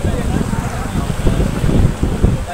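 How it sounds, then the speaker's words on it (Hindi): Strong wind roars and buffets the microphone at an outdoor livestock market, with a steady rushing noise of heavy rain blowing through. "बारिश आंधी बहुत तेज है।"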